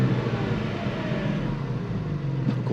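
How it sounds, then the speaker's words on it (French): Porsche 718 GT4 Clubsport with a 4.0-litre 420 hp engine and manual gearbox, its exhaust giving a steady, low droning rumble while cruising, even and continuous with no talk. "On va écouter un petit peu l'échappement que produit, donc le bruit pardon, que produit l'échappement de cette GT4"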